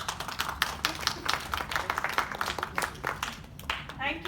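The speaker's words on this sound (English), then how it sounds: "may I ask you to clap for yourselves" Parents in the audience at an art and literature fair in Dubai clap for themselves, a busy patter of many hands for a few seconds that eases off, with a voice coming in near the end.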